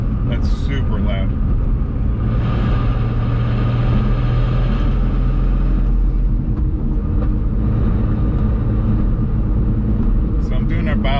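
A 750whp BMW 135i with a single mass flywheel and new transmission mounts cruising at about 50 mph, giving a steady loud low engine and road drone throughout with someone talking over it.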